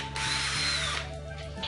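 Makita HP331D 10.8V cordless drill driver running steadily at a high setting, a close, continuous whine with a faint rising tone, no talk over it.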